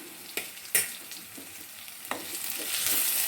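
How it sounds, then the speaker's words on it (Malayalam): Crushed spices sautéing in a pan for prawn biryani, steady frying sizzle broken by a few sharp stirring scrapes, with the hiss growing louder near the end. "നമുക്ക് ചതച്ചത് ഇട്ട് കൊടുക്കാം നന്നായി ഒന്ന് വരണ്ട് വരണം"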